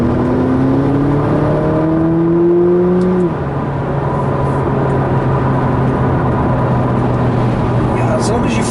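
A McLaren 570GT on a wet road revs hard through the gears, its engine note climbing, dropping at a downshift, then holding a steady drone inside the cabin while someone talks over it.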